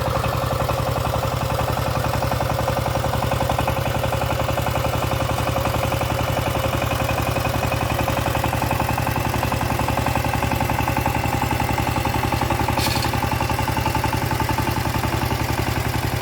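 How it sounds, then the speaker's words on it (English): A walking tractor's single engine runs steadily on a farm, a constant low chugging drone with mechanical clatter that holds unchanged throughout, with no one talking. "let's see how the way the tractor performs in the farm"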